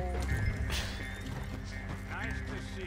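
A horse gallops at full speed and collides with a man in the open-world game Red Dead Online. Rapid hoofbeats are followed by a crash and a neigh, all fairly faint beneath game sounds and talking.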